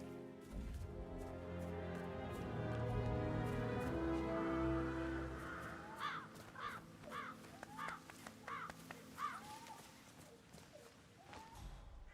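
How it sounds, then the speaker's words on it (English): Crows caw repeatedly in a Hitman World of Assassination level, a run of about seven harsh calls in close succession over a busy game ambience with low hum, plus a few later isolated caws. "I'll never get rid of those stupid birds."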